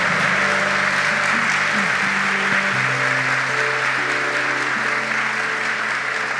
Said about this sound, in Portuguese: Pode aplaudir bem forte